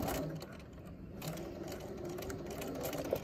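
A sewing machine stitches a 5/8 inch seam along fabric toward the edge, a steady close mechanical whirring that runs continuously from start to finish with no talking.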